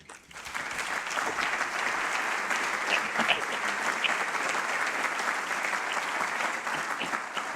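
Audience at a University of Valencia seminar closing ceremony applauds the rector, a steady, full round of many hands clapping that swells quickly and holds evenly throughout.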